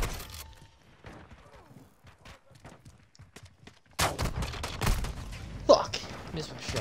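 Gunshots in Call of Duty MW2 on the Shipment map: scattered sharp cracks at first, then a denser, louder stretch of firing and impacts with a mechanical clatter, and a voice talking in places.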